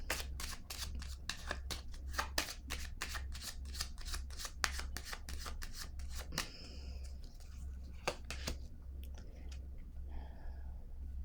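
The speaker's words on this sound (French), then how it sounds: "je vais prendre une autre carte" A deck of cards is handled and a card is drawn during a card reading, with a rapid run of crisp riffling and flicking clicks followed by a few sparser card snaps, close and quiet over a low steady hum.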